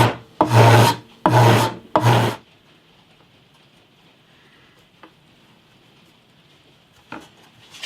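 A file is drawn over the wooden rib of a bass guitar being built from scratch, giving three loud, close rasping strokes in quick succession. Quiet follows, broken by a faint tap and one last light scrape.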